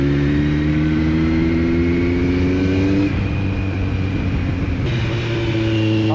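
Superbike engine revving while riding through Malaysia's capital, a loud steady drone that climbs in pitch, drops with a gear change, then climbs again, close and continuous with no talk.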